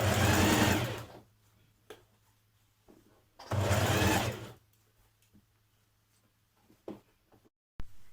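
Sewing machine stitching a dress neckline, running in two loud, steady bursts of about a second each separated by quieter pauses with faint handling clicks, close up.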